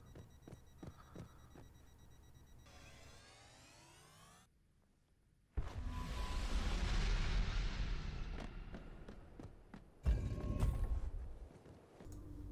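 Grenade explosions in the Halo 2 Anniversary game, a sudden loud boom that rumbles on for several seconds and then a second sharp blast, after quieter clicks and a rising whine.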